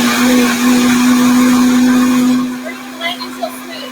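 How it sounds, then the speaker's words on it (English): A blender runs on low speed blending cucumber gazpacho, a loud steady motor whine with a constant hum that cuts off after about two and a half seconds, leaving quieter room sounds. "I always start my blender on low,"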